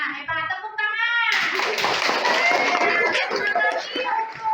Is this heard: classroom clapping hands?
yes